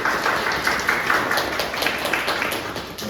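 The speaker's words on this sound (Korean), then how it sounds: "박수 한번 주십시오." Audience at a frontend development seminar applauding steadily, a dense even patter of many hands held at a constant level for a few seconds.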